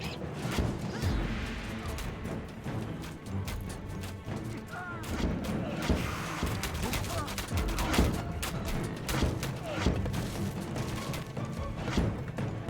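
Petrobolos siege engines hurl rocks during an Age of Mythology battle between two Hades players, producing dense, continuous impact crashes and thuds layered over a busy battle din for the whole stretch, with a commentator talking over it.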